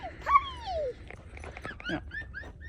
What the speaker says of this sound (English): The dogs are out here.